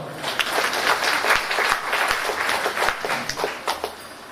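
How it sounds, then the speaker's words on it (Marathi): Audience at an international poetry festival in Pimpri applauding, a dense, steady wash of many hands clapping close and loud throughout. "तुमच्यासाठी तरी टाळ्या वाजव"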